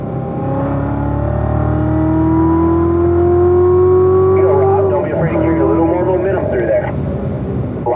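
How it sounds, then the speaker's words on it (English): Chevrolet Corvette Z06 accelerating around a race track, a strong engine note climbing steadily for five seconds, then easing and wavering as the throttle is squeezed again, heard from inside the car with a driving coach speaking over it. "Remember that Z06, a lot of power, squeezing throttle, very gentle."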